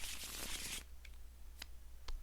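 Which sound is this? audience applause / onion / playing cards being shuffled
playing cards being shuffled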